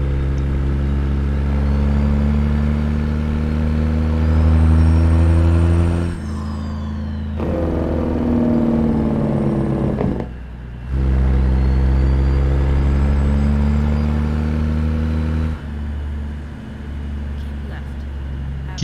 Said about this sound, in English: You can hear this, the engine sing.